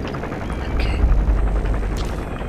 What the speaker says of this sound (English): There's a chopper landing.